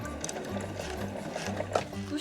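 Household sewing machine stitching through a thick fabric layer with a presser foot while making a zippered ruler case, a steady mechanical whir with rhythmic clicks, partly under a voice talking.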